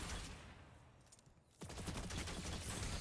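Gunfire in the Destiny 2 shooter bursts into a loud, dense volley after a quieter moment, rapid shots layered over game ambience.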